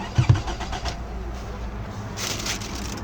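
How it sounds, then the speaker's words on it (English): A Toyota RAV4 with a crank-but-no-start fuel fault is cranked without catching. The starter gives a rapid, rhythmic churning that stays steady and close, with a brighter rise near the end and no talk. "let's gonna crank it like maybe once or twice if there is fuel in it"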